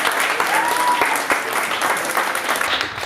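Sustained applause from a live seminar audience, dense clapping at steady loudness throughout, with scattered cheers and a brief whistle mixed into the crowd noise.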